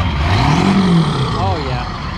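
Ford Super Duty 7.3 pickup engine revving up close, its pitch sweeping upward then easing off into a rough rumble, with people talking and shouting over it.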